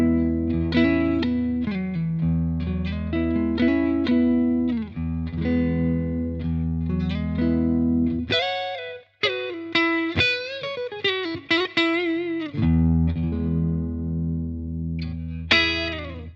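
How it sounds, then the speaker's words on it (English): A Squier FSR Bullet Stratocaster electric guitar is played clean on its neck pickup, with strummed chords, then a freer passage of single notes and bends, ringing out loud and close. "Neck pickup now, so position 5."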